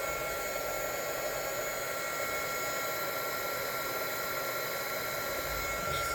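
Hot air roars from a heat tool in a constant, close, loud hiss with an electric motor hum, unchanging from start to finish.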